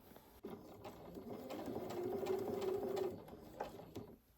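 A sewing machine stitches fabric in one continuous run of about three seconds, motor whirring steadily and close, with a few clicks before and after.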